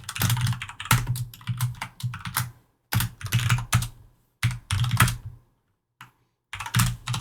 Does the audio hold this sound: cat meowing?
no